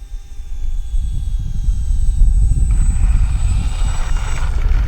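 A scale RC OV-10 warbird model plane passes with its engine at about a quarter to a third throttle. The propeller drone is steady and fairly loud, mixed with wind rush, and a thin high whine fades near the end.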